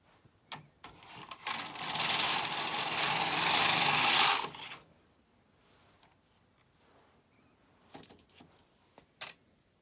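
A Bond knitting machine carriage slides across the bed while knitting intarsia, making one sustained whirring, clattering pass of about four seconds, followed by quiet handling clicks and taps.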